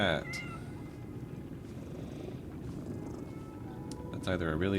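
A cat purrs close and steady through most of the moment in a hotel setting of the Lies of P game, with a short meow at the start and another near the end.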